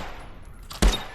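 One loud, sharp gunshot rings out in the VR shooter game Contractors, a single abrupt crack with a low thump after a stretch of quiet background noise.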